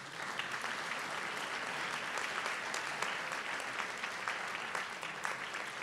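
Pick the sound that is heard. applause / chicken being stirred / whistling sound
applause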